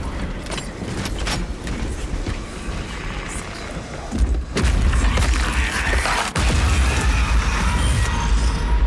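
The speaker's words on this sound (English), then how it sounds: "Reloading weapon." Mechanical clicks, clanks and metallic impacts of a weapon being reloaded in Warhammer 40,000: Space Marine 2, layered over dense game noise with heavier booms in the second half.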